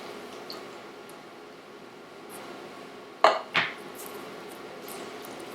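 A large cooking pot and utensils are handled while making beef taco soup, giving two sharp metallic clanks in quick succession over a quiet kitchen background, with no talking.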